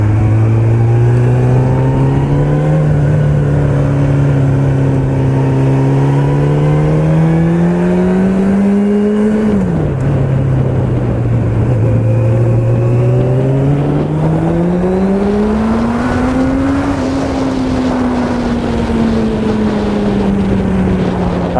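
A Suzuki GSXF 600 four-cylinder motorcycle engine drones loudly and steadily, its pitch rising and falling smoothly through revs as if accelerating and easing off, alone with some wind buffeting.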